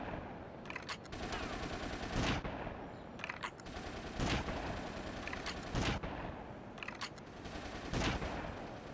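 Repeated bursts of gunfire from the last long-range weapon in GTA: Vice City Stories, sharp cracks fired in spaced volleys over a continuous background din, with several louder, heavier shots standing out at intervals.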